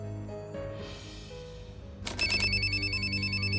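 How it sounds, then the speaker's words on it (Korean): A telephone ringtone cuts in partway through after soft, sustained background music, then rings out loud and repeating in a bright electronic pattern to the end. "2009년 10월 5일 하루코에게 전화가 걸려왔고"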